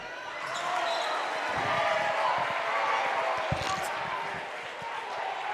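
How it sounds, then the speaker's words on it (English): Waverly home crowd at a high school boys basketball game against Piketon, with steady cheering and murmur filling the gym, a few sharp ball bounces and squeaks, under a commentator's voice. "Waverly crowd getting into it now"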